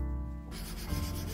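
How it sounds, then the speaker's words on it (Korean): Fine sandpaper rubs steadily across the painted metal surface of a small Transformers toy, a close, continuous scratchy rasp with light, even strokes. "표면을 고운 사포로 갈아주겠습니다"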